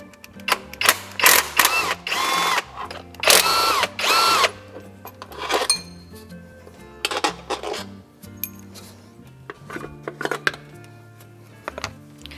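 Power tool whirring in short bursts as it removes 12 millimeter bolts from the belt cover of a Toyota 2UZ-FE V8 engine. Several close, loud spins are separated by pauses, with ratcheting and faint clinks between them.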